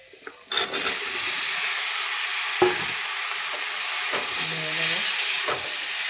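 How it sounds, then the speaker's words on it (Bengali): Potatoes fry with spices in a pan, a loud continuous sizzle and hiss broken by a few sharp clinks and scrapes of a utensil stirring against the metal. "এগুলো এইসব উপকরণগুলো সব ভাজা হয়ে যাওয়ার পরে এবার দিয়ে দেবো আলু।"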